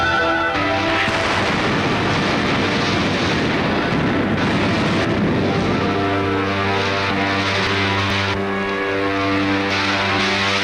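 Propeller planes taking off in a 1953 film, a loud continuous engine roar with droning tones that swell and shift as aircraft move, dense and sustained throughout.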